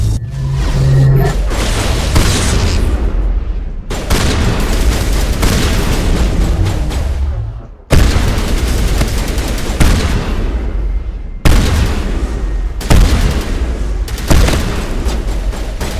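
Shotgun fire from the Mass Effect video game: about six heavy, booming blasts, each loud and close, with a short decaying tail, coming at uneven intervals with brief gaps between them.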